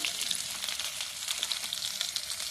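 Potatoes and ground cumin fry in hot oil with dried chilli and bay leaves in a home kitchen, giving a steady, close, dense crackling sizzle with small pops throughout and no voices.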